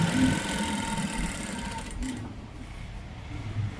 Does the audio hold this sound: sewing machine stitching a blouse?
yes